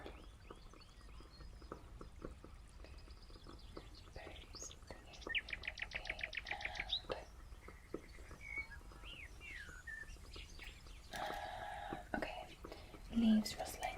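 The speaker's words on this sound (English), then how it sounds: "a sort of countryside ambience with birds singing" Countryside ambience of birds chirping and singing, close and quiet, with repeated rapid trills and scattered tweets, under soft whispering voices and faint rustles.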